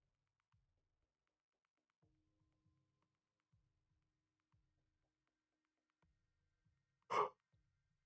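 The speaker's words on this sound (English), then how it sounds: "sorry for the yawn" A person lets out a single long, breathy yawn close to the microphone, loud against an otherwise quiet stretch marked only by a few faint clicks and taps.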